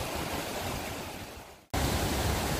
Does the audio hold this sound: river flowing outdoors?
yes